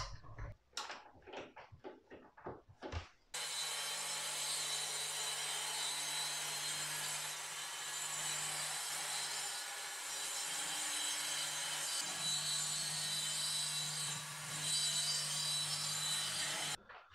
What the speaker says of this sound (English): Most of the cuts are going to be done using the track saw